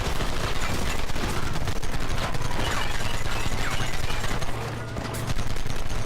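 Rapid gunfire from the Xbox 360 game Red Dead Redemption, a dense continuous stream of shots and bursts filling the whole stretch at loud, steady volume with a brief dip near the end.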